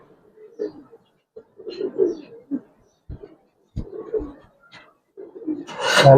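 Giribaz pigeons coo in soft, intermittent bursts close by, with short pauses between calls and a brief scraping noise at the end.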